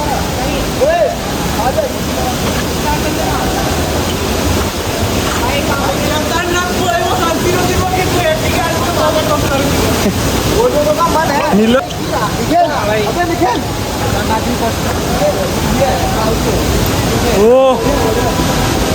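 Steady roaring rush of a waterfall during heavy rain, a loud broadband wash filling the whole clip while someone talks over it.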